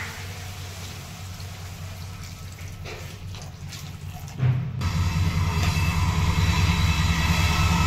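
A running train gives a continuous low rumble and rattle that swells and grows fuller about halfway through, heard alone without voices.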